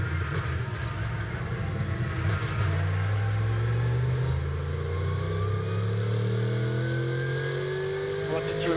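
A Mercedes GT race car engine drones steadily as the car approaches turn 6 at Hockenheim, with its pitch rising and falling through gear changes. Radio chatter runs over it throughout.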